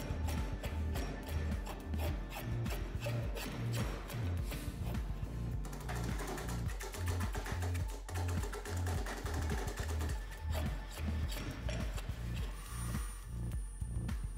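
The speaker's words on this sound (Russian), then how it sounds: "Для начала грубо обдираем древесину скобелем, получаем приличного вида брусок." A drawknife is rough-stripping a wooden block for a chisel handle, giving a steady run of repeated scraping and shaving strokes at close range, each pass a rhythmic rasp.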